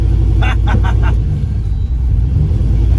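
Turbo LS Dodge Caravan pulling away, a loud low engine rumble with a brief burst of rhythmic rattling near the start, close and continuous.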